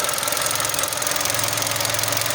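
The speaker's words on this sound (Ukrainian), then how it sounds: "як стабільно працює двигун" A Volkswagen Golf 5 engine idling steadily up close, with a dense, continuous mechanical rumble and a faint rhythmic knock running throughout.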